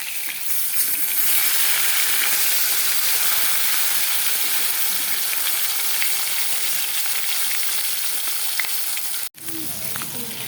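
Spiced onion, ginger, cumin and yogurt masala frying in a pan for a catla fish curry, a loud, dense, continuous sizzle with a brief stir or clatter near the end.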